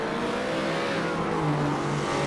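An Alfa Romeo Quadrifoglio revs in Assetto Corsa, a steady engine drone with harmonic tones rising and falling slightly, loud and continuous with no talk.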